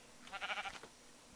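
A sheep bleats in the Minecraft video game, one short wavering baa heard alone and at moderate volume against a quiet background.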